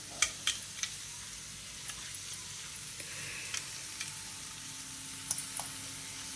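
Raw mango pieces frying in a pan for mango rice, giving a soft, steady sizzle close by with a few sharp ticks and light utensil taps scattered throughout.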